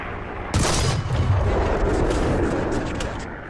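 Tank cannon firing in a video game: a single loud boom with a sharp onset, then a long rumbling roar of explosion and debris that slowly fades, no talk.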